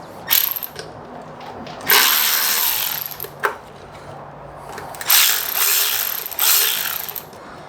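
A T40 Torx driver loosens an exhaust clamp on a 2022 BMW S1000RR, giving several short bursts of a power driver whirring and ratcheting close by, each lasting about a second or two, with quiet gaps in between and no talking.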